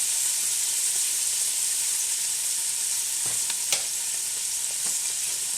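Chopped vegetables frying in a gumbo pot for collard greens, a steady bright sizzle throughout with a few sharp clicks and scrapes of stirring; no voices.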